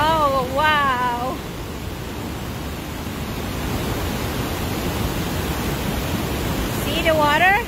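The powerful waterfall at the Cave of the Winds thunders close by as a dense, continuous roar of crashing water. Excited voices cut in over it near the start and again at the end.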